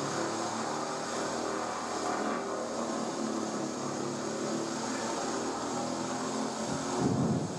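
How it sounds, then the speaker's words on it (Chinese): A four-seat electric aircraft taxis on the ground during brake and turning tests, giving a steady, fairly loud motor and propeller drone with a slight swell near the end. "这是我们四座飞机首架飞机的一个地面滑跑的视频"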